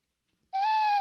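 A single sustained owl hoot starts abruptly about halfway through and holds steady, loud and close, after near silence, with no talk over it.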